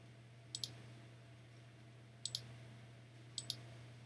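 Computer mouse clicking three times in quick pairs, crisp and close, with a low steady hum underneath and no talking.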